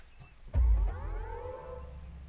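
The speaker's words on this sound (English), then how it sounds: "it's electric, of course, completely silent, but you do get some cool sound effects" BMW iX1 electric car powering on, producing a synthetic start-up sound effect: a soft thump followed by a swelling, rising layered tone that sustains for about two seconds, fairly close and clear with no talking.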